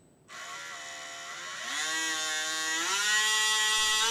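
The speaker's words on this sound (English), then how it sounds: "if we bring up the motor speed" An electric motor whines up in pitch in steps as its speed controller is brought to half throttle, a clean, rising tonal hum that grows louder after starting from near silence.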